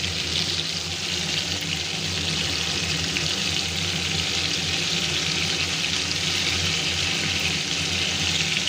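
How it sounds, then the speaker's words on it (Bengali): Hilsa fish pieces, belly and back cuts from the Padma river, frying in a pan of hot oil, giving a steady, dense sizzle that runs unbroken throughout with faint watery crackle and no voices. "আচ্ছা, অর্ধেকটা মাছ দিলাম বাকি অর্ধেকটা থেকে গেছে নিয়ে একে পুরো মাছটা ভেজে নেবে"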